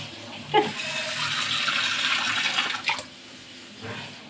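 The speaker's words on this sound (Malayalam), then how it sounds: "ഇനി നമുക്ക് കുറച്ച് വെള്ളം കൂടെ ഒഴിച്ച് ഇവനെ ഒന്ന് തിളപ്പിക്കാം" Water pours steadily into a cooking pot for a few seconds, a close splashing rush with a couple of brief clanks, then stops and fades.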